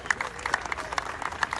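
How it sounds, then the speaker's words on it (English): Audience at a live anniversary event applauds, a fairly quiet, thin patter of scattered individual claps from a modest crowd, brief and without talk over it. "big round of applause for any of the St. John's Prep folks here today"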